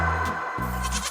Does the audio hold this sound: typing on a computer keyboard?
no